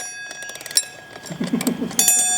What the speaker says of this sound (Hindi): इसमें अलार्म होता था, जो लड़की टाइम से उठकर अपने घर का काम संभाल लेगी